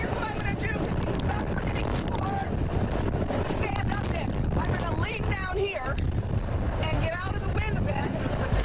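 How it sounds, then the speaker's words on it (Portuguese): Strong hurricane wind roars and buffets the microphone during a live news report, a constant harsh rumble with a voice speaking underneath. "o vento batia com tanta intensidade em seu rosto"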